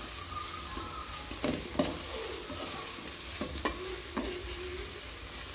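A spoon stirs pepper and coriander powders into vegetable fried rice in a hot pan. The food keeps up a steady sizzle while sharp scraping clacks land at irregular intervals, close and clear, with no one talking.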